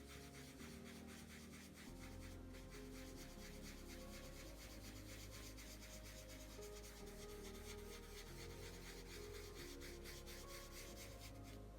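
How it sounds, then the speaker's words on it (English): A cotton wool pad gently rubs Arteza coloured pencil pigment into paper, a steady soft scratchy friction that continues close and unbroken throughout with no talk. "just go back in with the cotton wool pad and just gently rub this in"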